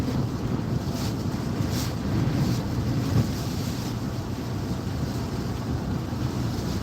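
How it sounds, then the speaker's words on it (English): Strong gusting wind and rain in the eye wall of Tropical Storm Ophelia on the coast at Emerald Isle, North Carolina, a dense continuous roar buffeting the microphone, loud and close with no talk. "But it just got super windy and super wet."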